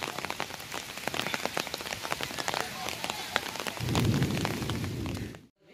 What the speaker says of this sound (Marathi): अगदी घडघडत पाऊस येता.